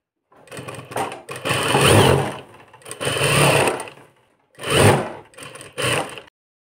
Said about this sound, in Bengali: আমি মেশিন সেলাই করে নিতেছি।